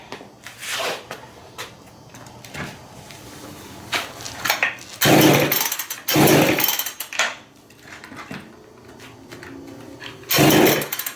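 A Poulan 306A chainsaw, fitted with a Nissan Maxima ignition coil, briefly fires and sputters in two short, loud bursts close by, separated by quieter handling noises.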